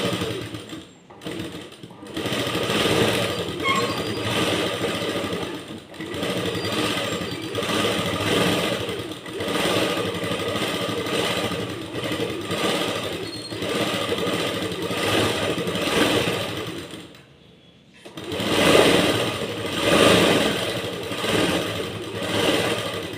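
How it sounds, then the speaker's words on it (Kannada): A sewing machine stitching folded bias strips into blouse piping runs in a steady, loud mechanical whir for long stretches, pausing briefly near the start and again before resuming. "ಫ್ರೆಂಡ್ ಈ ಥರ ಕ್ರಾಸ್ ಪೀಸ್ಗಳನ್ನ ಕಟ್ ಮಾಡ್ಕೊಂಬಿಟ್ಟು ನಾವು ಈ ರೀತಿ ಡಬಲ್ ಫೋಲ್ಡಿಂಗಲ್ಲಿ ಫ್ರೆಂಡ್ ಈ ಥರ ಸ್ಟಿಚ್ ಹಾಕಬೇಕು"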